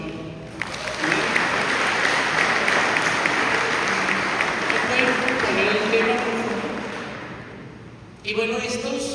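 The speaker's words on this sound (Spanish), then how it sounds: "¿Por qué no le damos un aplauso al Señor?" A church congregation applauds steadily for several seconds, a dense wash of clapping that tapers off before a voice speaks at the end.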